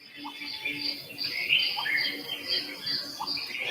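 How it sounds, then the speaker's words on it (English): Several birds chirp and call from trees in overlapping, intermittent song, moderately loud against a faint background hum with no one talking. "trees, birds are singing, so many of them"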